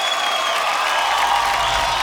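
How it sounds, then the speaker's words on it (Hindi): Applause and cheering from a large awards-show audience for Priyanka Chopra, a steady loud wash of clapping filling the whole moment without a break. "प्रियंका चोपड़ा के लिए जोरदार तालियां"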